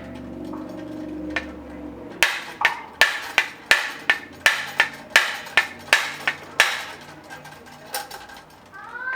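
A hammer strikes an aluminum part on a Jeep JLU Wrangler about a dozen times in a steady rhythm, each blow sharp and ringing, close by after a quieter start.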